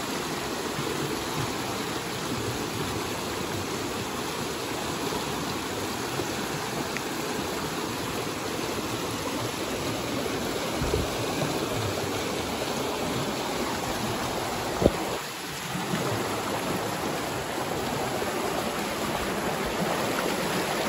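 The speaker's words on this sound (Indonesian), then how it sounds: "Keras arusnya." A strong river current rushes in a dense, steady roar for the whole stretch, loud and unbroken, with no voices, at a waterfall site in Seulawah, Aceh Besar.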